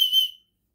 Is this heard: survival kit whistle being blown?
yes